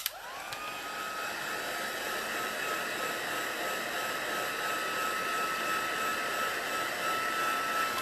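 A handheld heat tool runs continuously over a still-wet card panel, a steady close whirring roar with a high whine that holds level for the whole stretch, no voices.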